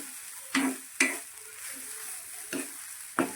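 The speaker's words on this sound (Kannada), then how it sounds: "ಎಲ್ಲವನ್ನು ಸ್ವಲ್ಪ ಡ್ರೈ ಆಗಿ ರೋಸ್ಟ್ ಮಾಡ್ಕೋಬೇಕು" Grated coconut with turmeric powder dry roasting in a pan for a Mangalorean chicken saaru, a soft continuous sizzle broken by four sharp scraping stirs of a spatula, close and alone.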